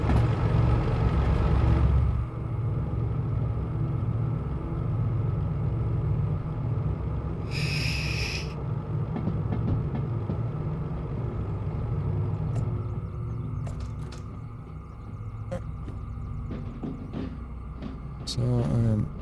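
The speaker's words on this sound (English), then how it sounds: "What I love about the D6 engines, it just sounds so grunty." A D6 diesel locomotive in the train game Derail Valley idles and pulls with a deep, grunty, steady rumble close by, a brief hiss rising partway through.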